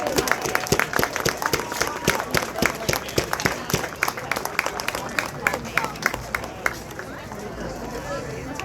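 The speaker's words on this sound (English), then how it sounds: "Let's give a round of applause." A crowd claps in a burst of applause at a sports hall of fame induction ceremony on a field, loud at first and thinning out toward the end, with some murmuring voices mixed in.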